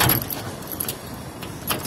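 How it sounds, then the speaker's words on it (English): A key scrapes and jangles into the side door lock of a Ford E350 van, giving close metallic rattles and clicks in several short bursts against steady background noise. "If I take a key, put the key in the lock."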